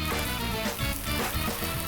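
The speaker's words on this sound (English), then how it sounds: "once you've got that beautiful sizzling happening" A kimchi cheese toastie frying in a pan gives a soft, steady sizzle with faint crackles, low in level and alone.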